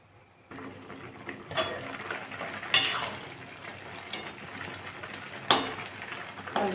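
A metal pot is covered with its lid while potatoes simmer with turmeric and salt on a home stove, giving a few sharp clanks and scrapes over a low steady simmer, with no talking.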